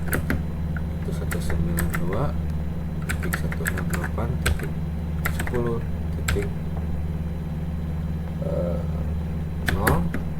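Rapid clusters of keystrokes on a computer keyboard while entering a DHCP pool name and IP network during inter-VLAN configuration, bursts of clicks separated by pauses over a steady low mains hum.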